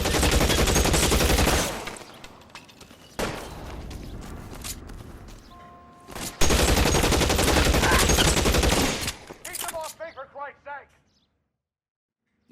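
Dense bursts of rapid gunfire from the L.A. Noire video game on PS4 come in two long loud volleys separated by quieter shots, then trail into a few echoing shots near the end, with voices shouting among them.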